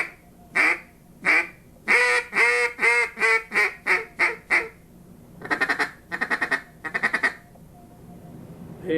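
An acrylic duck call is blown in a rapid series of loud, raspy quacks, first in a long descending run, then in short clustered bursts.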